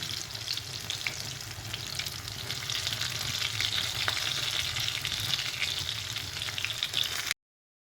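Chicken nuggets frying in a pan: a continuous, even hiss of oil sizzling close by, steady in loudness for about seven seconds before cutting off abruptly, with no voices.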